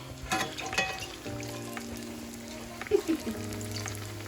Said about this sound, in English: just going to flip it over and let that other side get a little brownish